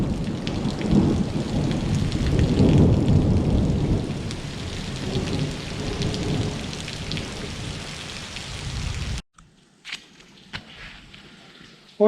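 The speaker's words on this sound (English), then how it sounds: "The storm has moved off a bit, still around" Heavy rain pours steadily over a driveway during a thunderstorm, with rumbling thunder mixed into the dense hiss for about nine seconds before the downpour abruptly cuts off to near quiet with a few faint taps.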